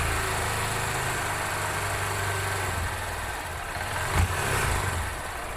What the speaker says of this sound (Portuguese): Eu vou acelerar para vocês verem a frequência que fica também.